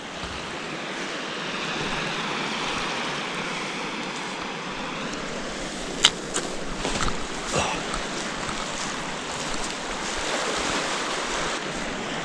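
Surf washing onto a wide beach in the Scottish Highlands, a steady broadband wash with wind buffeting the microphone and a few brief knocks, no voices.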